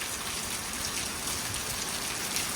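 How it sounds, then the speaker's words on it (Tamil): Heavy, steady rain pours down in a garden in Kanyakumari after three days of nonstop downpour, a dense unbroken hiss that fills the whole moment without any voices. "பயங்கரமான மழை ஒரு த்ரீ டேஸாகவே கண்டினியூஸாக மழை பெஞ்சிட்டே தான் இருக்குது"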